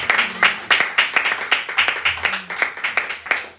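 Church congregation clapping and applauding, a loud crowd of hands with uneven rhythmic bursts of claps that swell and fade repeatedly, close and continuous throughout.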